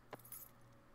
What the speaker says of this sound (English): I just got keys.